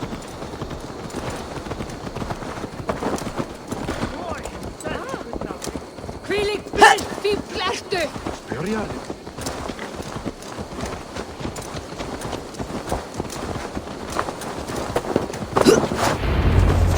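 Horse hooves clip-clop steadily in Assassin's Creed Valhalla, a walking rhythm heard fairly close beneath frequent game dialogue, with one brief louder burst partway through.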